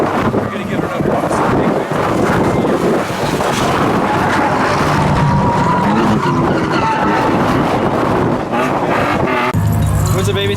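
A 2015 Ford Mustang EcoBoost with an automatic gearbox drifting at a track event: loud continuous tire skidding and engine roar with heavy wind buffeting, steady throughout with a brief dip near the end.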